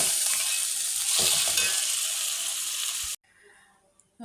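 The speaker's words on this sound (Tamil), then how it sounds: "அந்த சிக்கனை போட்டு ஒரு 10 நிமிஷம் நல்லா கலர் மாறுற வரைக்கும் வதக்கிக்கலாம்." Chicken marinated with salt and turmeric sizzles loudly as it is sautéed and stirred in a pan, a steady broadband frying hiss for about three seconds that cuts off abruptly, leaving only faint kitchen noise.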